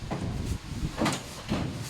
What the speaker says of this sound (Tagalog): So, yan pang 5 drawer natin. Pasok naman din ganyan.